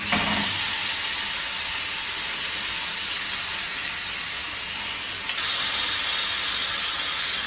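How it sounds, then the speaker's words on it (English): Beef for a roast sears loudly in a hot pan, a continuous bright crackling hiss that flares up briefly near the end. "That really nice sizzling sound."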